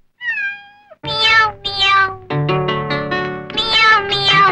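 A cat meows repeatedly at close range: one thin opening cry, then a run of loud, drawn-out meows in quick succession, with no talking.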